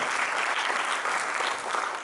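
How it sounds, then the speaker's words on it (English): Audience at a Guru Poornima gathering in Auckland applauding a first-time emcee, a dense, steady wash of many hands clapping at an even level throughout, with no talk over it. "A round of applause for him."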